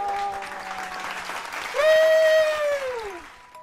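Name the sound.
audience applause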